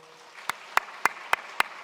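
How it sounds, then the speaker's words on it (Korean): A church congregation at a Sunday service claps in unison: five sharp, evenly spaced claps in a steady rhythm over a quiet room, with no talking. "정세용 형제, 이렇게 우리 전도사님, 간사님 인사할 때 박수 한번 쳐주세요."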